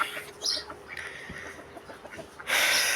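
Chickens cluck and squawk nearby in short bursts, followed by a loud rushing noise at the end.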